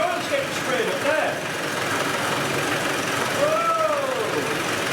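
A Spanish 110 engine runs on test with its valve covers off, giving a steady, continuous mechanical clatter and hum at an even level throughout, close up, with faint rising and falling tonal whines over it.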